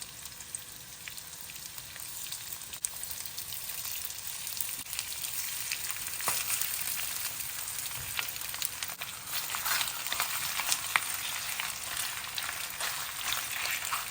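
Peanut chicken stir-fry frying on high heat in a pan gives a steady, continuous loud sizzle and crackle that builds slightly over time, with no voices.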